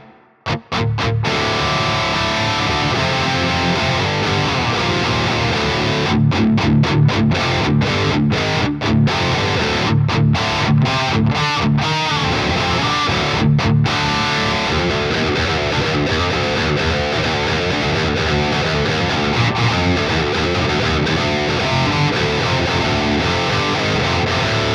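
An electric guitar played through an AmpKnob amp simulation with reverb added, with distorted chords and riffs ringing out, broken by short pauses, loud and continuous with no talking.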